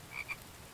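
Frogs in the survival game The Infected give two quick, faint croaks in a row, set against a soft ambient background with no voices.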